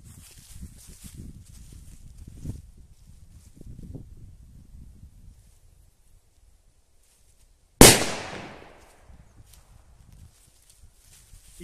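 A Jumbo Color Whistling Thunder firecracker explodes in grass outdoors: one sharp, loud bang that rings briefly, heard after several seconds of quiet with faint rustling.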